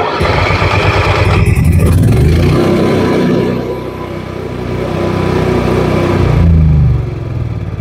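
An RV generator on a 2024 Forest River Sunseeker 2860 motorhome cranks and catches, then runs loud and steady with a throbbing mechanical drone, dipping briefly before settling back to a constant roar.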